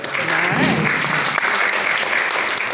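A comedy club audience at an opera house breaks into brief, full applause, many hands clapping loudly at once, with voices and cheering mixed in.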